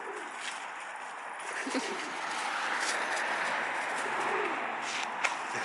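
Pigeons coo softly in low, rolling calls against a hissy outdoor background, with a faint tap near the end.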